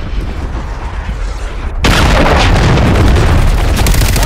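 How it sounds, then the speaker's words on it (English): A cruise missile strike in Call of Duty lands as a sudden heavy blast, then a dense, roaring rumble holds loud and steady to the end, following a quieter stretch of background noise. "Friendly cruise missile deployed."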